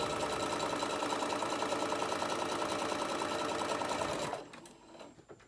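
A sewing machine stitches a tote bag in a fast, steady mechanical whirr for about four seconds, then stops abruptly, leaving faint handling noises.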